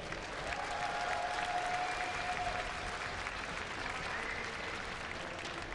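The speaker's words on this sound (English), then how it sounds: "Give it up for Ace Nerchio." A large crowd at the StarCraft 2 Gamescom 2012 finals applauds in a steady, dense roar of clapping that holds at an even level throughout.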